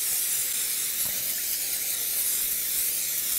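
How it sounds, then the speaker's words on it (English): Olive oil sprayed from a spray can over the top of a macaroni and cheese dish, a steady close hiss lasting several seconds with no talking. "spray the top with a little bit of olive oil"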